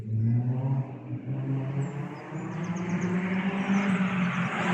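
Caterham sports car driving on the Cadwell Park race track, a steady engine drone with a slight rise and fall in pitch, heard at moderate distance with no voices.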